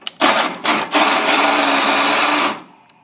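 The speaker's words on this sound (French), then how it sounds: "il faudra les percer avec une scie cloche de diamètre 40" A power drill with a 40 mm hole saw whirs in two short bursts, then grinds steadily through plastic for a couple of seconds before stopping.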